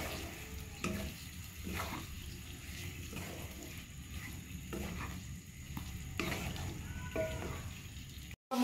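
Chicken with cumin powder being stirred in a frying pan, a low steady sizzle broken by repeated scraping strokes of the spoon at an even pace, faint and close with no talking.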